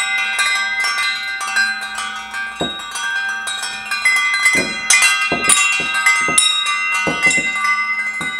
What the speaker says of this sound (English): I just got the wind chimes put together, so I'm gonna make them go off